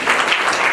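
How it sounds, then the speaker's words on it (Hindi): An audience at a school ceremony claps to welcome BD Public School children arriving to dance, producing a brief, dense, loud burst of applause. "हम तालियों से बच्चों का स्वागत करते हैं"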